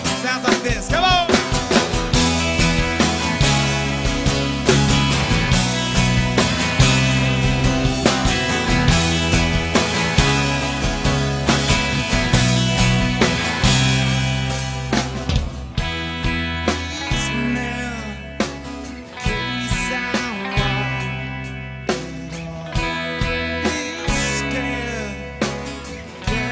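Full band playing live at the Dreamforce Global Gala in San Francisco, with drums, guitars and bass, dense and loud, with a thinner, quieter stretch in the latter half.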